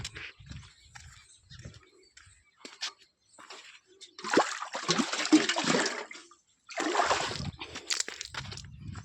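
Water gushing and splashing into a container at a farm field, arriving in loud irregular bursts with short pauses between, close to the listener, with faint outdoor background noise.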